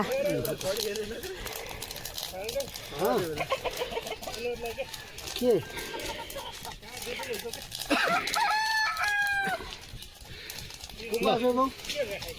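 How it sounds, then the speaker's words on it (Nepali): Hens cluck busily while a rooster crows partway through, with people talking over the farmyard noise at a family deity worship gathering in the mountains of Nepal. "कुखुरा जताततै"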